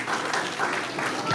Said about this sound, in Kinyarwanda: N'umwongera amashyi